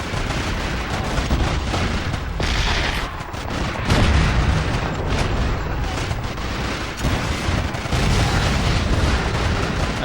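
Bazooka rounds and tank explosions from the World War II shooter Call of Duty 2, a loud, continuous barrage of booms and gunfire with heavy low rumble and no pauses, peaking around the middle.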